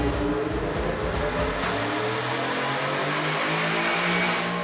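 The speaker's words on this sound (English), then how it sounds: "So let's fire up the dyno here and get off to our first step." A 2021 Ford F-150 with a Stage 2 Whipple supercharged engine runs on a chassis dyno on stock wheels and tires, a loud continuous engine roar that holds steady throughout.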